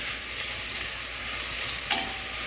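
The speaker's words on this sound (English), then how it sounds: "I'm going to be adding the carrot, a whole large carrot that we shredded. And I'm going to let this saute all together" Shredded carrot sautéing in a pot for a Russian zatiruha soup base, a steady close sizzle and hiss with faint stirring scrapes throughout, no talk.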